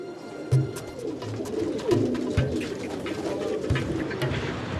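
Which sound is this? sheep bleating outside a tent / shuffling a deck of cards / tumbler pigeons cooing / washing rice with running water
tumbler pigeons cooing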